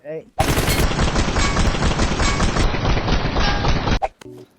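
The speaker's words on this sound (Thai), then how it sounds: "กูยิงมันเข้าหัวเป้งมึงยิงต่อมันเนาะ" Gunfire in the mobile battle-royale game PUBG Mobile: a loud, continuous burst of rapid automatic shots lasting several seconds, cut off abruptly, with a couple of faint clicks after.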